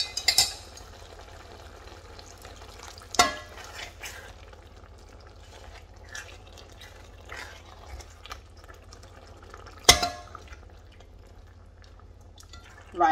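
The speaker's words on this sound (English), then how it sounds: "I'm also going to add some of the stock." Stock is poured into a Cameroon-style meat tomato sauce and stirred in, producing a soft, continuous wet bubbling and dripping texture with a few sharp clinks of the spoon against the pot.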